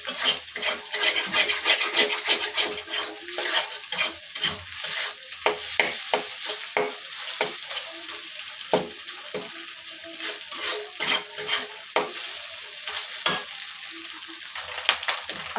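Potato and egg filling for an egg roll frying in a pan while being stirred, with steady sizzling and frequent scraping, clinking strokes of a spatula against the metal, close and loud throughout.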